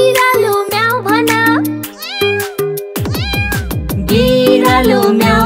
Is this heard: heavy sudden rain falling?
no